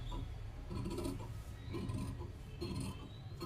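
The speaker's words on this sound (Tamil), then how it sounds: "இப்போ இதை வந்து நம்ம அப்படியே கட் பண்ணணும்" Scissors cut through blouse fabric in quiet, repeated rasping snips at an even rhythm, heard up close and faint with no talking.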